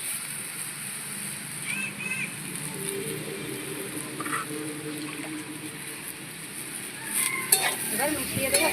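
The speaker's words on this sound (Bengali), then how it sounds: "এবার আস্তে আস্তে জালে এই ছাতুটা বেশ লাল লাল করে ভেজে নেওয়া হবে।" Sattu flour fries slowly with potato and onion in a pan under soft, steady sizzling and low scraping stirs. A few louder clinks come near the end, all fairly quiet and without speech.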